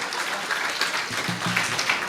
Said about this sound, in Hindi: तालियां कम बजा रहे हैं, जरा खुल के बजा दीजिए।